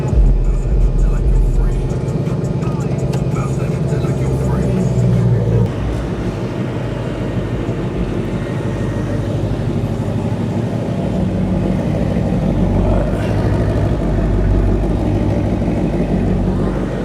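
A 2015–2023 Ford Mustang GT (S550) V8 starting and settling into a steady low idle rumble, close and loud, with a person talking over it.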